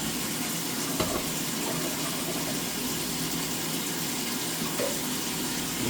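Water pours steadily into a nut milk maker, a continuous close gushing and filling sound that runs without a break and with no voices over it.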